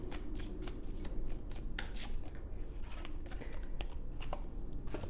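Tarot cards are shuffled by hand, a quiet, rapid riffle of card edges and soft rubbing flicks continuing throughout, close up with no talking.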